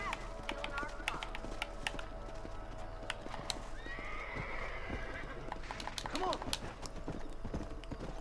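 Horse hooves clip-clop steadily in Red Dead Redemption, with a horse whinnying around the middle and again near the end, set over a constant game music and ambience bed and occasional talk.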